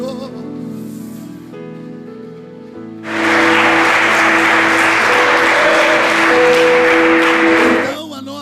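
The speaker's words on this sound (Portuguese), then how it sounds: "Se você recebe, aplauda o nome do Senhor" A church congregation breaks into loud applause after a stretch of singing with music. The clapping is dense and sustained for several seconds under a held sung tone, then stops abruptly.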